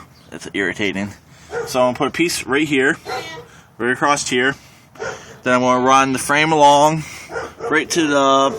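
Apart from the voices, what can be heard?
neighbour's dog barking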